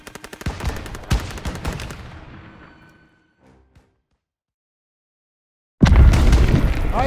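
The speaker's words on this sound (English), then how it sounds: "Leo and Sussman need covering fire!" Bursts of rapid gunfire and booms from Call of Duty: WWII, loud and dense for about three seconds, then fading into a hush before a heavy barrage of shots erupts again near the end.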